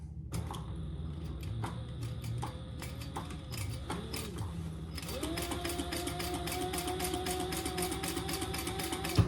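A sewing machine stitching a tote bag runs in short mechanical bursts, then settles into a steady, faint, even whir of rapid stitching with a whining motor tone.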